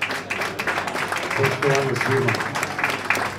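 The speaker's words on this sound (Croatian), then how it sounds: "Molim se, jedan aplauz." Applause rises from the audience at the Mega Muzika Awards music ceremony after a producer is introduced. The clapping is moderately loud and scattered, with someone speaking over it through the middle.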